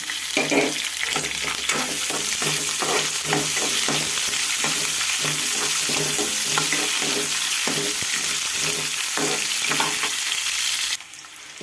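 Onions, green chilies and ginger pieces fry in hot oil with a constant close sizzle, broken by rhythmic stirring scrapes of a spoon in the pan; the sound cuts off abruptly near the end.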